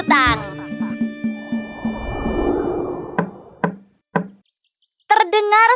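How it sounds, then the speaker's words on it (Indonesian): Sharp knocks on a door ring out one at a time, three or four separate raps spaced apart, loud and near, between stretches of chirping birds and other effects, with a short voiced sound at the end. "Terdengar suara ketukan pintu."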